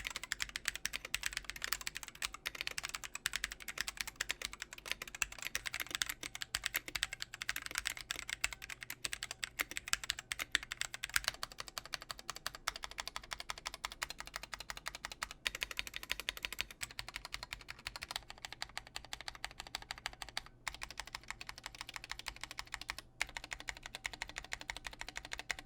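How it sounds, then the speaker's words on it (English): Steady, fairly quiet typing on a Drop Carina keyboard fitted with stock unlubed Drop Panda switches, keystrokes clicking in a continuous, slightly uneven rhythm with no talking. "the stock unlubed drop pandas have a ton of ping to them, as you could hear"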